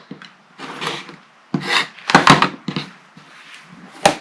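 A blade trims the edge of a fabric quilt block in short, rasping cuts. Separate close strokes come in uneven bursts with brief gaps between them.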